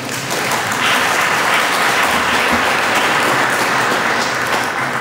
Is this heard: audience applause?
yes